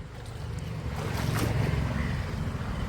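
Heavy rainwater pouring into a room of a house during a downpour in Kanyakumari district, a steady broadband rushing and splashing wash that holds constant and fairly loud throughout, with no talking.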